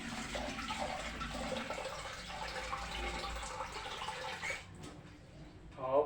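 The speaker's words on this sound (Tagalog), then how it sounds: "Lagyan ko na ng tubig." Water runs and splashes into a pot of uncooked rice grains for cooking, a steady close pour with dripping that thins out near the end, followed by a brief clatter.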